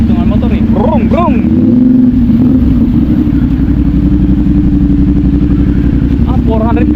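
A big 450cc motorcycle engine passes loudly and steadily throughout, with its drone continuous and close, while a person talks over it.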